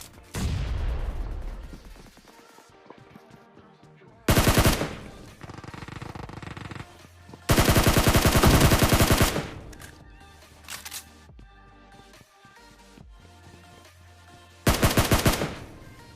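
Gunfire in a battle royale video game: loud bursts of rapid automatic fire and single shots, separated by quieter stretches of game sound.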